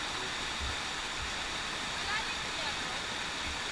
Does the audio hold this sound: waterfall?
yes